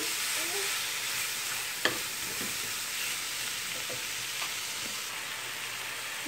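A moussaka base fried with paprika in a pan sizzles steadily and close, with a few sharp clicks and scrapes as it is stirred, and no voices.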